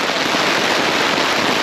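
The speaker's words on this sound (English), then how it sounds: "the rain is really pounding down" Heavy rain drumming on a tent at a winter blizzard camp, a dense, loud, unbroken patter close overhead with no voices.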